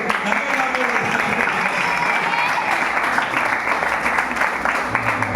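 Steady crowd clapping fills the hall as an audience at a puppet show in Cheppad, Alappuzha, applauds for several seconds, with someone speaking over it.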